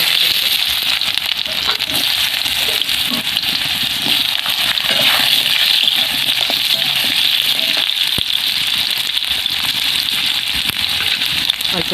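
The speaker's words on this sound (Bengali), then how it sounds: "তো তেল গরম হয়ে গেছে, এখানে লম্বা করে কেটে নিয়ে আলুটা লাল করে" Long-cut potato slices frying in hot mustard oil in a kadai, a dense continuous crackling sizzle held at a steady close level, with a voice talking over it.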